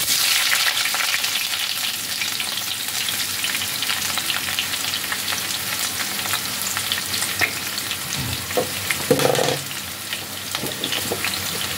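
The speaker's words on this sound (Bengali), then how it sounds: "এবার আমি তেলের মধ্যে দিয়ে দিচ্ছি কেটে রাখা পেঁয়াজ।" Chopped onions sizzle and crackle continuously in hot oil, with a brief scrape of stirring near the end.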